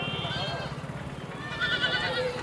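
Goats bleat at the Gudur livestock market, several calls rising over steady crowd chatter and background voices, fairly close and moderately loud.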